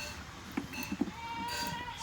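Goats bleat briefly during milking on a shepherd's farm, two or three short nasal calls close by over a steady background hum.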